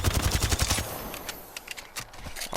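Volt SMG firing in Apex Legends: a rapid full-auto burst of sharp cracks for under a second, then scattered single shots and clatter as the recoil goes uncontrolled.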